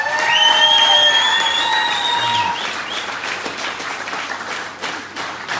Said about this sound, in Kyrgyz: Россиядан бир жакшылап кол чаап койсоңуздар.